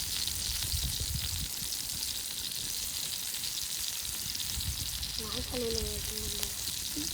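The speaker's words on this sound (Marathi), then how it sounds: "थोडा आता मी पलटी मारून घेतोय चिकनला." Chicken fries in oil in a pan and gets flipped over, a dense continuous sizzle with some scraping, and a short tonal squeak late on.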